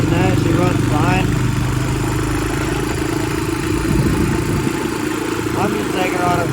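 A sport quad ATV engine running steadily and loudly up close, its rough idle mixed with rattling from loose parts; the machine needs carburetor tuning and sounds uneven throughout.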